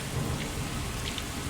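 Steady rain hisses across the whole moment in Fallout 4 with a low rolling rumble of thunder underneath, dense and continuous, no voices.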